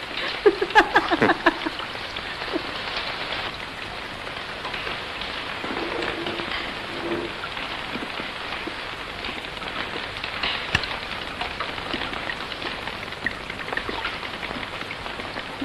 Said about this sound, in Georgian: ეს წვიმა რომ ხმაურობს, სახურავს.